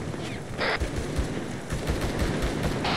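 Rapid bursts of machine gun fire in the Arma 3 military shooter, dense overlapping shots and booms crackling continuously through the whole stretch, loud and close.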